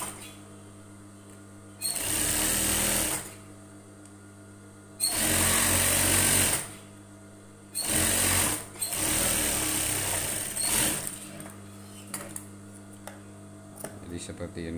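A sewing machine stitches a semi-folded collar on a women's Korpri uniform blouse in loud bursts of rapid whirring, four runs separated by pauses with a low hum between.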